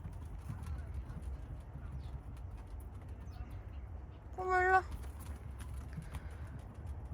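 A cat gives a single short meow against a quiet, low household background.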